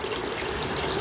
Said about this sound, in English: I think I'll put a little bit more water in the bucket